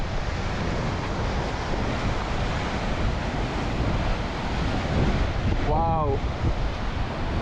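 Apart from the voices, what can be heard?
extreme wind and sea waves during Storm Ashley in Scotland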